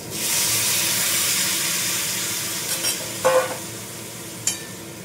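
Sliced ridge gourd fries in a little oil in a pan with a steady, loud sizzle and hiss, broken by a few brief scrapes and clatters as it is stirred.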